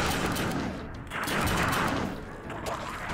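Rapid bursts of gunfire from the video game Fallout Shelter, a dense crackling volley that runs almost continuously with brief dips, loud and close like game sound effects.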